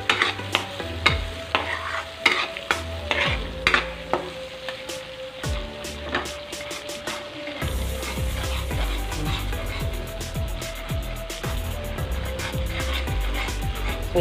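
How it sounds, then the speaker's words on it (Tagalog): Garlic fries in butter with a steady close sizzle, while a utensil scrapes and stirs the pan in repeated sharp knocks. "gusto natin lagay ay bawang"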